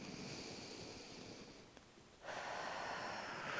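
A yoga instructor holding a high lunge breathes slowly and audibly, a long airy exhale fading out, a brief pause, then a strong rushing inhale, close and soft with no talking.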